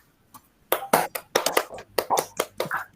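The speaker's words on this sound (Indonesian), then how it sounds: "tepuk tangan untuk kelompok 3" Classroom applause for a student group after their presentation: a handful of people clapping crisply and unevenly at close range for about two seconds, with no talk over it.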